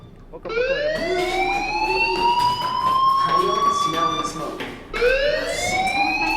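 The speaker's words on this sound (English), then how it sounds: "do you hear that fire alarm?" A fire alarm in the game Life is Strange wails in two rising electronic sweeps, loud and close, the second starting after a brief break.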